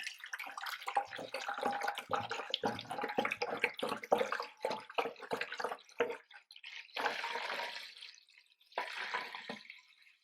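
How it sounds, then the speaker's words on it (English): White distilled vinegar pours and glugs from a one-gallon bottle into a garden sprayer, a steady splashing stream broken by short gaps as the bottle is tipped and re-poured; no voices. "And I'll pour that into the sprayer."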